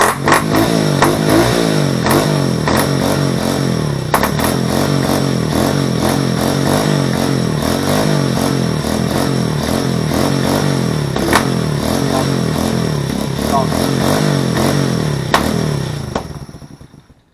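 A smoky junkyard SSR pit bike engine runs close and loud, a steady rattling idle with rises of revving that holds for about sixteen seconds before it cuts off.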